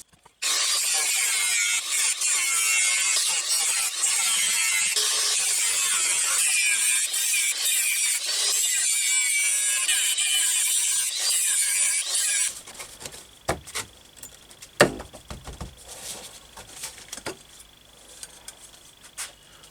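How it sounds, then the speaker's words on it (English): An angle grinder cuts metal on a hard tail bobber motorcycle frame, a loud steady high-pitched whine that runs for about twelve seconds and then gives way to intermittent scraping and clanking. "we'll have to try and get the angle grinder and cut out what we can"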